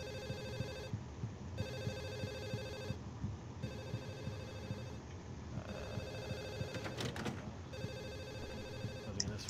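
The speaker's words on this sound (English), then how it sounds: "Oh, that's a phone." Telephone in the video game Silent Hill 4: The Room rings in repeated bursts, each a bright, trilling bell lasting about a second with short gaps between, over a constant low background rumble and some brief clatter near the end.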